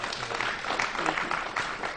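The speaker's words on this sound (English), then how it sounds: "I think that deserves a round of applause" A crowd applauds with dense, steady clapping for a couple of seconds, fairly close, with a few voices mixed in.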